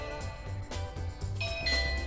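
A eufy battery-operated doorbell chime rings indoors, a few clear tonal notes over low background hum, with a brighter tone near the end.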